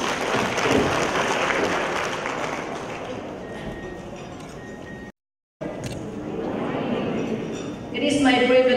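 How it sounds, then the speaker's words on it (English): Applause from attendees at a regional higher education summit, a steady even wash of clapping with a brief cut partway through, and a voice starting to speak at the very end. "A round of applause, please."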